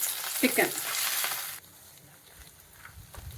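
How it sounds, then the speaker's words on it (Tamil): Chicken frying and being stirred in hot oil in a kadai for a spicy chicken roast gives a loud, busy sizzle with scraping stirs for about a second and a half, then drops to a quiet low crackle. "சிக்கனை இந்த கடாய், எண்ணெயில் உள்ள கடாயில் தட்டிட்டு நல்லா கிண்டி எடுங்க"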